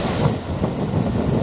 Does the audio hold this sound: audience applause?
no